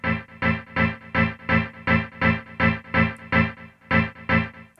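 Step sound sample played on an Akai MPC 3000, a regular rhythmic loop of rising, swelling hits repeating about three times per second, loud and close with no speech.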